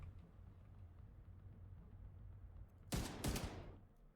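Gunfire in The Division 2 video game: a couple of sharp, close shots fired in quick succession after a stretch of quiet low background ambience.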